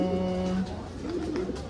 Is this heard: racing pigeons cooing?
yes